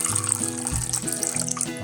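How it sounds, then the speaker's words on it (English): Water is poured into a bowl to make a spice mix for a Moroccan tagine, a steady close trickle and splash running continuously. "put a bit of water in"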